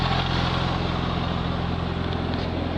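A 2002 Porsche Twin Turbo runs steadily, its exhaust giving a loud, close, even rumble with a dense broadband roar and no change in pitch throughout.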